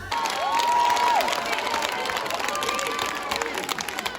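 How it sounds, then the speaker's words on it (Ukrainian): A concert hall audience applauds wildly as a singer takes the stage, a thick continuous wash of clapping and cheering with a brief whistle-like tone above the crowd. "В залі шалені аплодисменти."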